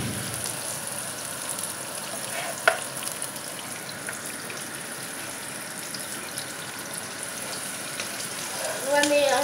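Courgettes frying in a pan while being stirred, a soft steady sizzle with occasional scraping and clinks, faint and close, louder toward the end.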